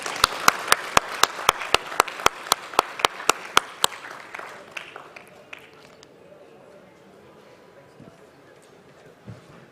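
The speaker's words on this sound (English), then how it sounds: "A big applause for Mr." Audience at a business conference summit gives a short burst of sharp, rhythmic clapping that fades away after a few seconds, leaving a quiet hall.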